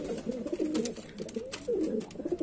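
A male Kalanka Madrasi pigeon coos close by in a series of soft, throaty rolling calls that repeat with brief pauses between them.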